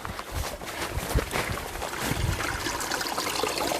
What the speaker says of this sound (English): It's like it's actually quite relaxing listening to that last night, just the water, like a little stream.